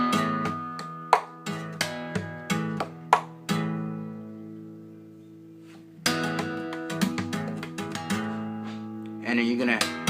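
Acoustic guitar playing a percussive pattern from John Butler Trio's Ocean, with string slaps, hammer-ons and ringing notes in a rhythmic sequence, briefly sustaining before the pattern repeats; close and solo with no talk.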